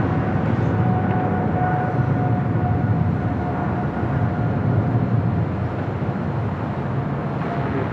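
A Philippine Airlines Boeing 777-300ER rolls down runway 25 right for takeoff, a loud continuous broadband jet roar with a faint steady whine, constant throughout.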